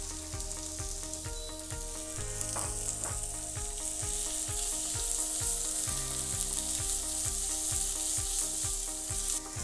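Vegetables fry gently in oil for a vegetable tagine with chickpeas, a soft even sizzle running continuously beneath steady music, with no talk.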